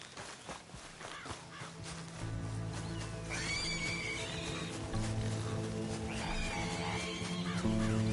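A horse whinnies twice in a faint, somewhat distant, high drawn-out call over a low steady background hum, with no talk.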